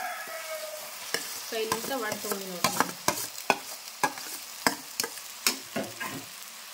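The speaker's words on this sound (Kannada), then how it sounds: "ಈಗ ಆಲೂಗಡ್ಡೆ ಹಾಕಿಬಿಟ್ಟು ತಿರುಗಬೇಕು ರೀ" Boiled, peeled potatoes broken by hand are stirred in a frying pan for aloo sagu, a spatula scraping in a steady series of sharp, close knocks over a light sizzle, with a brief spoken remark near the start.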